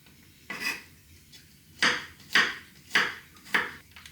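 A knife cuts garlic cloves into medium slices on a chopping board, five close, crisp strokes, the first alone and then four spaced at an even, unhurried pace.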